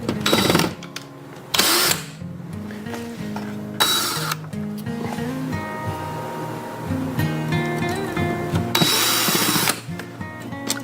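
Removing a light switch faceplate brings bursts of a power driver whirring in short spurts, with small clinks and handling noises between them, close and fairly loud, no talking.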